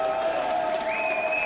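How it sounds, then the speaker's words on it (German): Demonstrators cheer and applaud in a dense crowd after bailiffs and police withdraw, a steady unbroken roar of voices and clapping over the whole stretch. "Jubel unter den Demonstranten."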